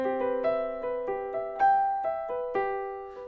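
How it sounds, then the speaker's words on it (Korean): Piano voice from an AEROBAND digital guitar plays a gentle arpeggio, evenly spaced clean notes ringing over one another at moderate loudness, with no speech. "자, 이건 피아노 소리예요."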